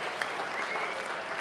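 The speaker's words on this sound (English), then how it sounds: "Big round of applause for our senior group this year." A crowd applauds the senior group at a 2024 regional awards ceremony, a steady dense wash of clapping throughout with no gaps.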